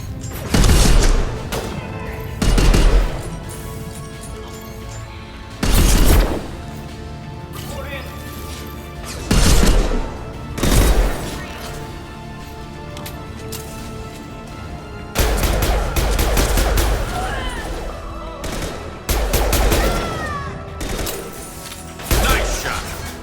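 Heavy sniper rifle shots in Mass Effect 2 boom out at irregular intervals, each a loud sharp blast with a short rumbling tail, several clustered near the end over a steady game soundtrack.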